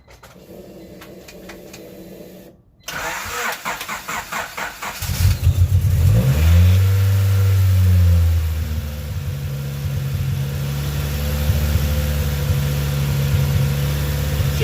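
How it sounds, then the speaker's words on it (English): Boosted Honda Civic EG engine cranking, catching and settling into a steady high idle after a brief rev, loud and close, with some handling noise before the start. "So I'm just gonna fire her up real quick to see if she runs rough on startup"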